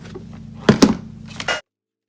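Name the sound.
heat tool melting Whisper White embossing powder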